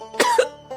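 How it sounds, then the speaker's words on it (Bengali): An elderly father in a Bengali cartoon gives a short, rough cough, one harsh burst followed by a second throaty catch and a faint trailing rasp, close and alone. "তোমার কাশিটা তো এখনো কমেনি বাবা"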